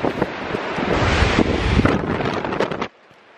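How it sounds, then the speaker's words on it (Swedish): Strong storm wind on Åland buffets the microphone in loud, rumbling gusts for a few seconds, then cuts off abruptly into near silence. "Det blåser här."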